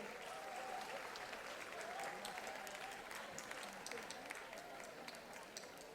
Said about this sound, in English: A big round of applause for Tardeo BMC Urdu Medium School.